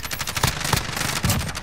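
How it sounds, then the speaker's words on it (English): Kilo rifle in a Call of Duty Warzone Rebirth Resurgence match fired in quick, rhythmic taps, several close, punchy single shots spaced a few tenths of a second apart over steady game ambience. "I'm using tap fire on the kilo"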